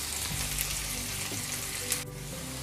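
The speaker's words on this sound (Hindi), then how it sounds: "अब प्याज को हमें मीडियम फ्लेम पर अच्छे से भूनना है।" Onions frying over a medium flame for desi-style pasta, a close, constant sizzle with a few light stirring scrapes, dipping briefly near the end.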